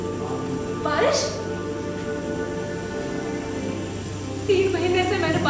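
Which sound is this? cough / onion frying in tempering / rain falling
rain falling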